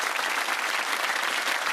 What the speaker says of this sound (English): That applause must be a welcome sound, Michael.